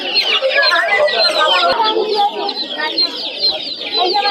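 Australian chickens at a pet and poultry market on Galiff Street, Kolkata, cluck and squawk continuously as a dense, busy flock, loud and close, with some crowing mixed in.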